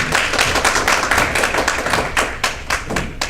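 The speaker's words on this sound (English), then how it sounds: "Give him a nice round of applause." An audience at a ginseng forum in Madison County applauds, a dense, close burst of hand clapping that fades slightly, then swells again in separate claps toward the end.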